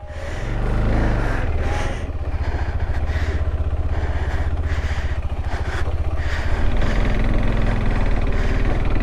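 A motorcycle on an overlanding trip in Ecuador pulling away, its engine rising from idle into a steady close drone that holds for several seconds, no talk.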